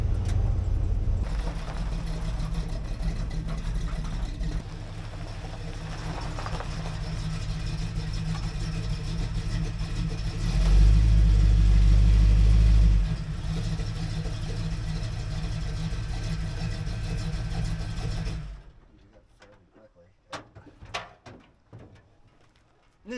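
Pickup truck engine rumbling steadily and revving harder mid-run as it is driven off, then cutting to quieter scattered outdoor sounds.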